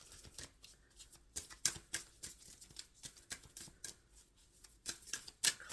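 Tarot cards are shuffled by hand during a collective reading, giving close, crisp, irregular riffling and snapping bursts with short pauses between them.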